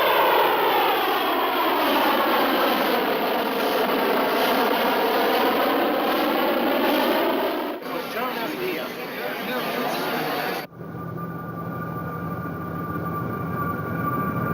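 Aircraft engine drone inside a plane coming in to land, a loud steady roar with whining harmonics that shifts abruptly twice, the second change cutting to a thinner hum.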